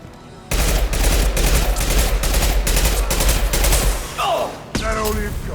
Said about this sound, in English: I love this rifle.